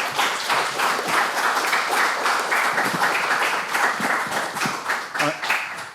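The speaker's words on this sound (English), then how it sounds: "I'm often amused when people clap." Crowd clapping after a talk at a live panel discussion, a loud sustained round of applause with individual claps audible, fading slightly toward the end.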